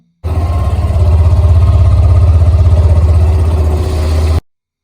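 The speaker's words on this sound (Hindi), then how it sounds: "अब सुनिए बाइक की आवाज।" A quiet motorcycle engine idles steadily at close range, a low even throb that holds for about four seconds and then cuts off abruptly.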